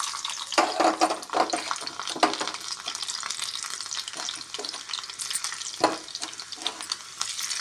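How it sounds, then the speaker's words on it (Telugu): Garlic and two green chillies frying in hot oil for a gongura pachadi tempering give a steady, close crackling sizzle throughout, with a few sharper pops and stirring clatters standing out above the hiss. "ఇప్పుడైతే దీంట్లో తిరగమాతకి తెల్లగడ్డ, కొంచెం కారం కొంచెం తక్కువ ఉంది అందుకని 2 మిర్చీలు వేస్తున్నాను."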